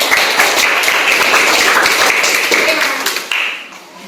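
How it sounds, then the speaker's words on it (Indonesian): Audience clapping at a school event, a brisk burst of many hands applauding close by that holds steady and then tapers off near the end. "Berikan tepuk tangan."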